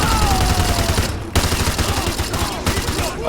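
Rapid automatic gunfire from Call of Duty Modern Warfare 2 Remastered, a loud, sustained burst of fusillade with brief breaks and a raised voice underneath.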